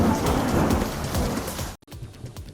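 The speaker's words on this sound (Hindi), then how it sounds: "श्रीनगर में तेज बारिश और आंधी आई" Heavy rain pours down during a storm in Srinagar, a dense, roaring wash of downpour that drops out abruptly for a moment before resuming more softly, with no voices.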